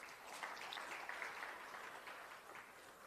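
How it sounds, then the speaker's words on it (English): Conference attendees at an international transport, logistics and management conference applaud the presenters, a faint, distant, even wash of clapping that runs the whole time. "Let's give a round of applause to all our presenters for sharing their valuable insights."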